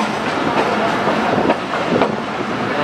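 The Ravi Express train stands at Shahdara Bagh railway station with a continuous loud rumble and clatter of rail cars, with some wind buffeting on the microphone.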